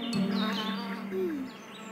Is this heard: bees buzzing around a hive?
yes